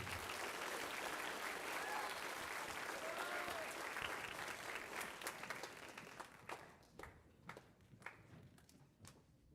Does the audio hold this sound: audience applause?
yes